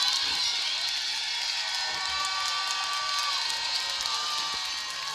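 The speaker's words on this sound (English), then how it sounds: "And the crowd goes wild." An arena crowd at a high school varsity hockey game between the Ontario Bay Storm and Fayetteville-Manlius Hornets roars steadily after a goal, a dense, sustained cheer with scattered whoops, heard from a distance without speech.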